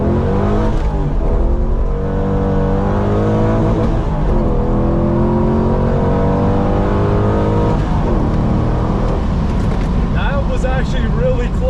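A Tesla drag-racing a Corvette: loud, rising electric whine and engine roar as the cars accelerate hard from a standing start, with people talking and shouting over the noise throughout.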